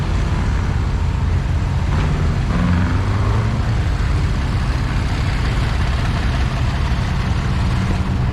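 An antique tractor engine idles smoothly at a show parade, a steady, loud low rumble held evenly throughout with no talk over it.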